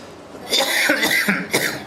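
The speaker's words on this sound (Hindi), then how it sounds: "खांसी हो गई" A short series of throaty coughs, three or four quick bursts close to the listener, with no talking.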